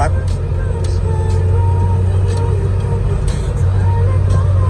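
Suzuki Jimny Katana cruising in fourth gear on a toll road, a steady close engine drone with road and tyre rumble throughout, a few light knocks over uneven pavement, and a voice talking over it.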